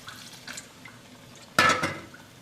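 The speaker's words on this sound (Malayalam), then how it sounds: "കുറച്ച് വെള്ളം ചേർക്കാം" Water poured into a simmering spinach and lentil curry, a brief close splash and gurgle after a few quieter stirring clinks.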